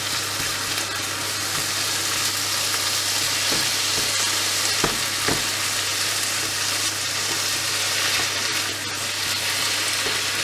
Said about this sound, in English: And you want your mince to brown nicely all the way around.